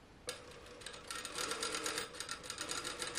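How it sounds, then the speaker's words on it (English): A sewing machine stitches polyester fabric in a steady, close, rapid whirring run of needle strokes that starts abruptly and holds at an even pace. "So in sewing this polyester fabric"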